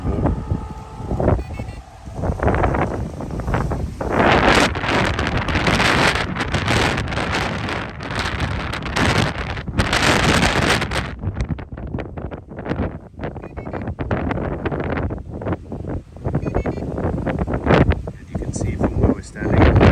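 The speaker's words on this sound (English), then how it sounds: "The wind is very bad." Strong outdoor wind buffets the microphone in a continuous heavy roar during an RC truck session with a Traction Hobby F150, gusting and easing briefly but dominating throughout.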